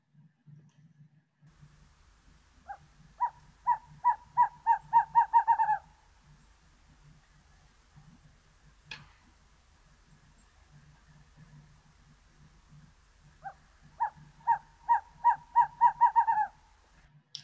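Recorded owl calls played back outdoors during a Nevada nature survey, two bursts of rapid accelerating hoots like a high-pitched bouncing ball, each series speeding up before stopping, with a quiet low hum between.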